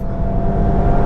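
A car at full power on the Donington Park track gives a brief, loud, steady engine roar with no voices over it.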